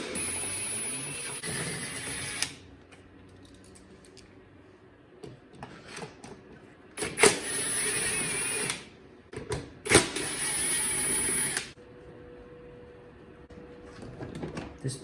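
Bolts being removed with a power tool from a plastic guide piece on a 2021 CFMOTO Cforce 600 Touring ATV: three loud bursts of buzzing whir, with softer clicks and tool handling sounds in between.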